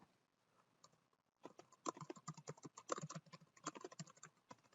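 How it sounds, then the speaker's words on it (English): Steady typing on a computer keyboard while filling out an online beneficial ownership report form, with rapid clustered keystrokes after a short quiet start and no talking. "Oh, all this darn typing."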